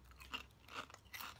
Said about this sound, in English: Crunchy, chew it up.